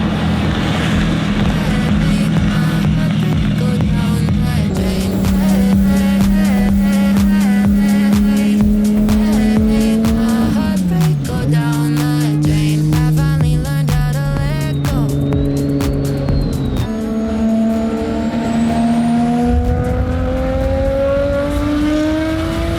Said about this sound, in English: I love the spool, and the exhaust is loud, but it's not so loud that it's hurting my ears.